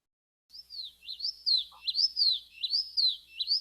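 A recorded bird sings a smooth, compressed song of repeated three-part whistled phrases with gliding pitch, clear and alone after a brief silence.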